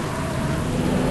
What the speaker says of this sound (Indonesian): Hujan deras, guys.